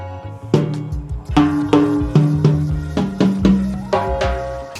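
Timbales struck in a sequence of sharp hits alternating between the higher macho drum and the lower hembra, each attack ringing briefly with metallic overtones, played alone and fairly loud.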